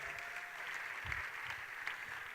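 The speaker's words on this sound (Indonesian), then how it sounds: "Come on, beri tepuk tangan bagi Tuhan kita." A church congregation at a Sunday anniversary service applauds steadily throughout, a soft, distant-sounding wash of clapping with no talk over it.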